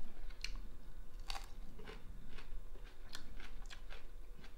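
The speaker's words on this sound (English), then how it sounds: "I want to taste my shrimp." Someone bites and chews big crunchy shrimp from a pasta dish with broccoli rabe, several quiet close crunches in an uneven rhythm.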